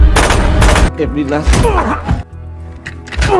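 Pistol shots ring out in a heist film scene, sharp loud bangs in a rapid cluster at the start and again later, mixed with a voice narrating over the action.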